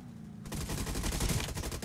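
Rapid gunfire from several weapons in a Death Race vehicle-combat video game mode, bursting in suddenly after a quieter moment and continuing as a dense, loud stream of overlapping shots.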